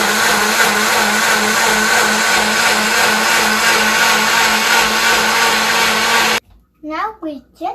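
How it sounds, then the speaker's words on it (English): A kitchen blender whirs loudly and steadily for about six seconds as it blends sugar and water, then cuts off abruptly and a voice speaks. "Now we put this into the blender."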